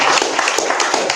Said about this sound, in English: Let's give Chris one more round of applause.